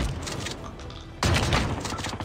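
Heavy R9-0 shotgun blasts in COD Mobile, a sharp loud burst about midway that cuts in over a busy game background and keeps ringing through the rest.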